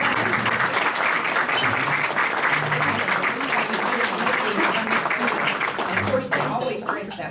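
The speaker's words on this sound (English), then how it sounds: "So if our students could please stand, a round of applause." Audience at a Rotary Club career day luncheon gives students a round of applause, dense steady clapping throughout, with faint voices mixed into the crowd noise.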